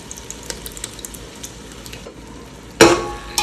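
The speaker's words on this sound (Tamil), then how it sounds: "நல்லா மிக்ஸ் பண்ணி விட்டுக்கலாம், தயிர் ஆட் பண்ணி." Vegetable brinji with tomato, green chilli and curd being stirred in a pan, with soft scraping clicks and a brief louder sizzling burst near the end.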